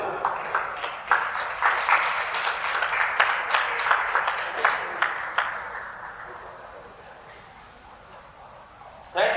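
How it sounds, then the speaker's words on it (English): A conference panel audience gives a short burst of clapping for a guest doctor, with separate loud claps at first that thin out and fade to a quiet room by the end. "Okay, please clap for my Oga,"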